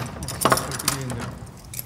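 A normal key rattles and clicks in a lock, a few close metallic jingles and scrapes over a soft room background.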